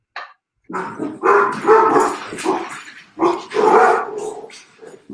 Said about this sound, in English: I apologize to the viewers who can hear my dogs going crazy right now